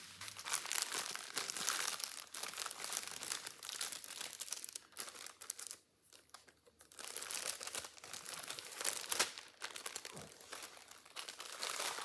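Plastic crinkles and rustles almost continuously up close, with a brief lull in the middle before the crackling resumes, loud and busy.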